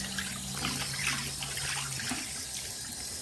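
Water from a tap rinses a bathroom sink, a steady splashing rush with trickling, fairly close and with no talking over it.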